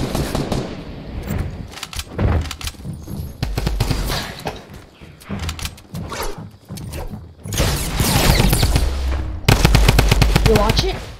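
Gunfire in the video game Fortnite, with shots from a hunting rifle: loud, repeated cracks and rapid bursts of shots that come in clusters with short pauses between them, over a busy game soundscape.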